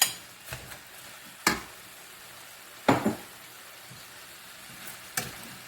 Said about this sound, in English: To this now I'm going to add the ginger, the garlic, and the onions.